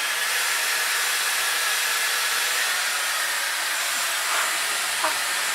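A Dyson Hair Wrap blows air at its highest airflow setting, a loud, steady, unbroken whooshing hiss close by with no talking.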